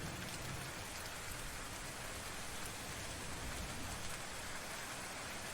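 Rain falls steadily in a spooky scene of the video game Colorful未来. It patters on surfaces as a constant hiss that stays fairly quiet, with no other sounds over it.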